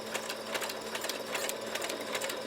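Sewing machine stitching a fabric ruffle for a junk journal, a steady rapid mechanical whir with regular pulsing stitch beats, close and moderately loud, with no talk.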